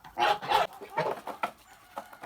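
Several Kholmogory geese honk and cackle in quick, uneven bursts, fairly close, with brief quiet gaps between the calls.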